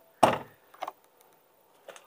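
Sharp tap on a car door trim panel as a clip is pressed into place, one loud knock followed by two softer taps, close and alone.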